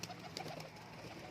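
Pigeons in a loft give soft, low cooing over a faint, steady background hum, quiet and brief.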